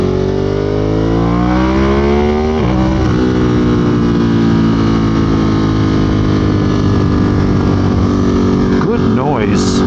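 A 2022 Ducati Monster motorcycle with a two-tooth gearing change being ridden: a loud, close engine climbs in revs, shifts with a brief break, then pulls on in a steady droning growl.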